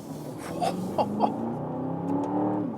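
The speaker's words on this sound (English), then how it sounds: "Screaming from the exhaust." An Aston Martin DBX climbs a winding hill road, its exhaust howling as the engine pitch rises steadily, loud and close, with a few sharp crackles over the sustained drone.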